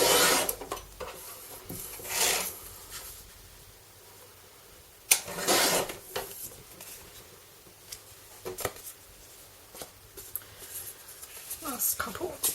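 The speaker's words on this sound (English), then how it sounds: "I've got the Caterpillar Pro up, and I'm just trimming these down to 10 centimetres." A Caterpillar Pro paper trimmer slices card pages down to 10 centimetres, giving short raspy cutting strokes in separate bursts, with a person talking in between.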